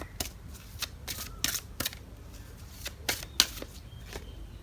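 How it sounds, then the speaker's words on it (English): Tarot card decks being shuffled up close, a series of quick riffling bursts and soft slaps in an uneven rhythm, fairly quiet against a low background. "Now I have 3 decks here that I'm going to be using for shuffling."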